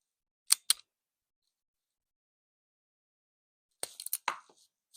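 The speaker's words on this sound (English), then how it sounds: "strip the wire. It strips it out to exactly how much you need to crimp" A wire stripper stripping and cutting solar panel wire: two sharp snips close together near the start, then a quick cluster of clicks and snips a few seconds later, close up in otherwise quiet surroundings.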